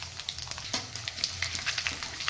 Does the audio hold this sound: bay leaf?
yes